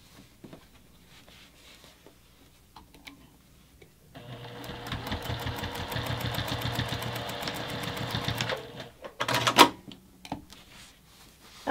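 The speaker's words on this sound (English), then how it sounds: "then just stitch across using an eighth of an inch seam" A sewing machine stitches a bag strap extender seam with an eighth-inch allowance, running in one steady rapid burst of several seconds after quiet handling, followed by brief clicks and shuffling.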